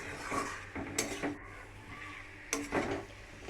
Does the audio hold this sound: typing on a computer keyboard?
no